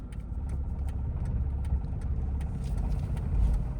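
A car is driven in first gear during a driving lesson, with a steady, close mid-low engine drone that swells slightly near the end and no talking.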